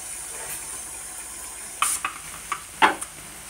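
Garlic paste fries in a pan with a soft, steady sizzle, broken by a few sharp scrapes and clinks of a utensil stirring against the metal.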